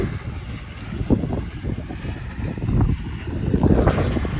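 A pearl millet threshing machine runs in a farm field, giving a steady, loud, low mechanical roar that swells toward the end, with wind buffeting the microphone.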